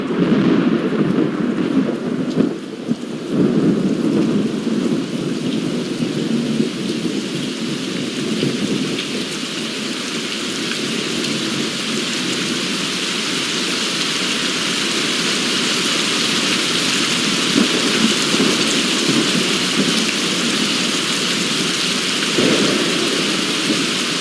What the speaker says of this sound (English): RainyMood.com is a website that makes it sound like it's raining outside.